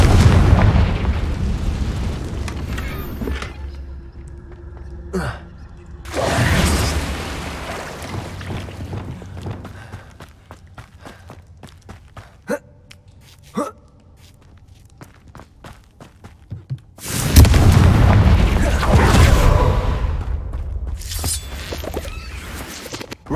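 A Confringo spell bursting in Hogwarts Legacy: loud rumbling blasts and booms rise and fade, separated by quieter stretches of footsteps and scattered sharp cracks, with no one talking.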